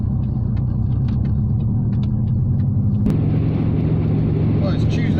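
A Talbot Tagora on the road in the Netherlands: a steady, close engine rumble with a louder surge midway as it passes, with some talk faintly underneath.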